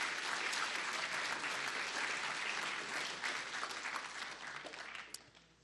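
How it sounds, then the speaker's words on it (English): Audience applause at a Zero Robotics competition event, a sustained wash of many hands clapping that holds steady and then gradually fades out. "So we should give them a big round of applause for being the oldest teams here."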